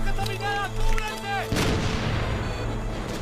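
Gunfire in a jungle firefight between soldiers and guerrillas in the film Soñar no cuesta nada, a dense roar of shots and blasts breaking in after a tonal musical passage, loud and continuous.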